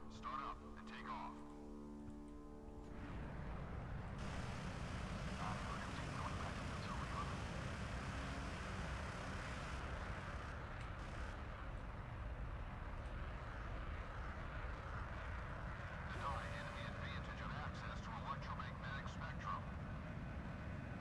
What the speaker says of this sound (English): Attack helicopter. Start up and take off.